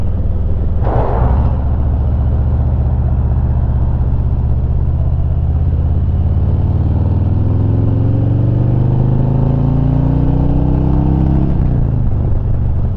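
A Harley-Davidson motorcycle engine revs hard through a loud exhaust, its deep rumble climbing steadily in pitch over several seconds before dropping off near the end, close and continuous with no talking.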